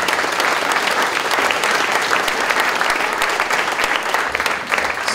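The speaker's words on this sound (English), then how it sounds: "why don't we give some applause for the people who are going to be presenting to us" Audience applause fills a PechaKucha talks event at Hamilton Supercrawl 2014, a dense steady clatter of many hands clapping throughout, loud and sustained with a faint crowd murmur underneath.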